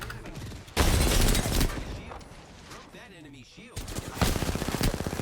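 Loud bursts of gunfire from the video game Apex Legends, a heavy volley that stops briefly mid-clip before a second barrage of rapid shots; voices talk over the shooting.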